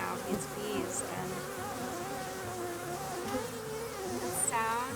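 A cluster of honeybees hums and buzzes close overhead, a dense, layered drone with individual bees swooping past the microphone now and then. The sound is fairly quiet and steady, with no talking.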